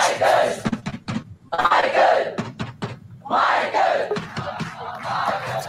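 Home crowd chanting in loud rhythmic bursts, voices surging and cheering in repeated waves with brief dips between shouts.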